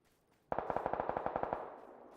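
Automatic gunfire in the video game PUBG, a rapid evenly spaced burst of about fifteen shots over one second, moderately loud and sharp, with no talking.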